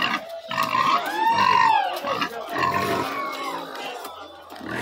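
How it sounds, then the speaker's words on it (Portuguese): Pigs in slaughter pens at a pig and piglet market in Tabira, Pernambuco, loud squealing and grunting close by in several bursts, with crowd noise behind. "Aqui nos curral sempre fica mais os porcos pra abate, né?"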